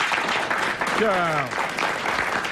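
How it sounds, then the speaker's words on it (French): Studio audience applauding on a French radio-TV quiz show, a dense, sustained wash of clapping with a voice speaking briefly over it. "qu'on applaudit"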